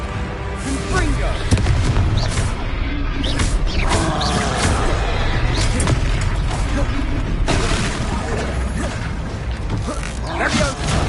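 Confringo explosion spells cast in Hogwarts Legacy, loud booming blasts and cracking bursts repeating in quick succession over dense game sound, with a voice shouting spell names throughout.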